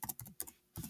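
Quick bursts of typing on a computer keyboard, several clustered keystroke runs separated by brief pauses, close and fairly quiet with no talking.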